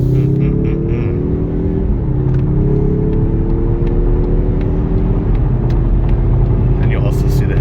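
Engine of a 2023 Mazda 3 2.5 Turbo AWD heard from inside the cabin, droning loudly and rising in pitch through two gear changes, steady and close.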